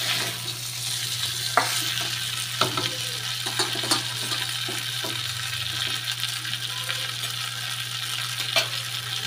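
Cauliflower sizzles in hot oil as a spatula stirs it in a pan, a steady close fry with scattered scraping clinks and taps throughout.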